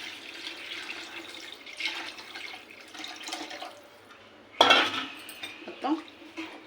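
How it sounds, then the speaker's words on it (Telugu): Tamarind water is poured into a pot of fish curry, which gives a short splashing gush after some quiet clinking of utensils in a home kitchen. A second, smaller splash follows. "ఇందులో చింతపండు వాటర్ వేసుకోవాలండి"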